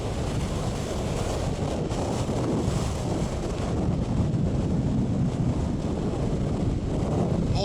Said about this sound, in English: It's incredibly windy out there right now.